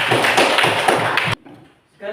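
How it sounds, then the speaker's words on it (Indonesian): Classroom clapping during a junior high school maths lesson, a short burst of hands clapping together for just over a second before cutting to near silence. "Tepuk tangan."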